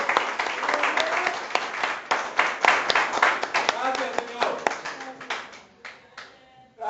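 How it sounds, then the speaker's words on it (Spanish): A church congregation claps at a worship service, brisk overlapping handclaps mixed with a few voices. The clapping thins toward the end into scattered claps. "dale ese aplauso al Rey de Reyes y Señor de Señores"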